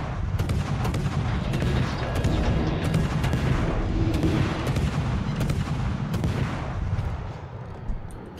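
Naval gunfire from the Smaland destroyer in World of Warships booms in repeated heavy volleys over a continuous rumbling battle backdrop.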